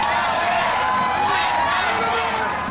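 A large crowd of protesters surging at the Capitol as police try to hold them back, a loud continuous roar of many voices and movement, dense and unbroken throughout.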